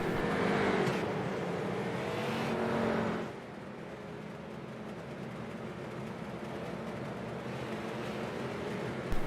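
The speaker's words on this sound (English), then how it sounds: "Drivers coming out of pit road to take their 2 pace laps before the green." Street stock race cars pull off pit road at Nashville Fairgrounds Speedway for pace laps, a loud engine drone that drops sharply partway through and then settles into a steady, more distant hum.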